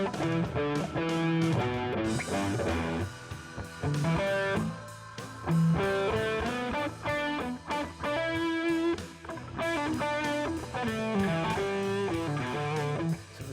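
Electric guitar plays a distorted riff in a pentatonic box, choppy chords and single-note phrases with short gaps between them, loud and close with no voice over it.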